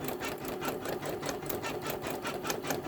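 A Janome Memory Craft 10001 embroidery machine stitches a scarecrow design in a steady, rapid rhythmic chatter, close and moderately loud, with no talking.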